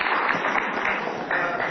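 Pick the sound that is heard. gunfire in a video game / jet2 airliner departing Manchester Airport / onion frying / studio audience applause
studio audience applause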